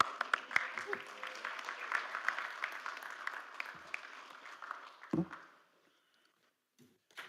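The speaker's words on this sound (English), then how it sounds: "Give them a round of applause." At a Little Rock city board meeting, people applaud tennis representatives with moderate, steady clapping that fades out near the end and leaves near silence with a few faint sounds.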